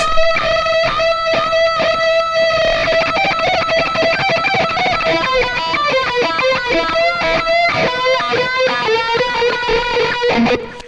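A distorted electric guitar plays a fast lead line with a sweeping, vowel-like wah tone, notes rapid and sustained, loud and alone throughout.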